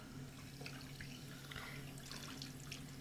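Tap water runs steadily into a sink while paintbrushes are rinsed clean, a continuous close splashing wash with a low hum underneath and no talking.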